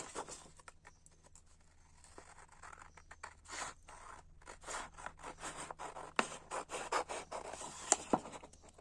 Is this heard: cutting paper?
yes